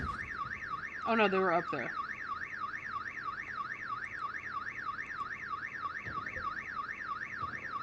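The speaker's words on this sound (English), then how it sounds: "So maybe there's only like one consistent alarm noise now." An alarm in the Project Zomboid video game wails steadily with a rising and falling tone throughout, and someone briefly speaks over it near the start.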